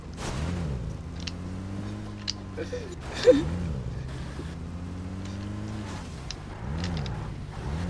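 A car driven in the video game PUBG, its engine revving in repeated rising and falling sweeps under bursts of excited talk and occasional sharp game sounds.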